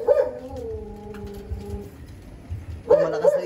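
Pigeons coo in a loft, a low throaty call that fades and then returns, with soft bird chatter in between.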